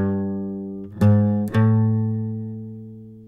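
On acoustic guitar, a short phrase of a few plucked notes climbs in pitch and then rings out and fades. It sounds clear and close, with no voices.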